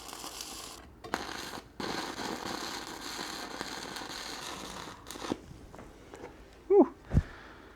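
An arc welder running at 120 amps with 1/8-inch 7018 rod lays a bead on dump trailer ramps, giving a steady close crackling buzz that starts and stops in bursts, followed by a few knocks and handling noises.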